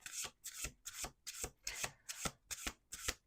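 A deck of cards shuffled in quick repeated riffles, about seven crisp rustling bursts in a steady rhythm, close and alone without talk.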